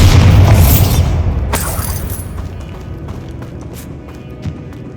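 Bombarda exploding spell in Hogwarts Legacy, a loud booming blast with rubble crackling at the start that decays over a few seconds into quieter debris and light tapping footsteps.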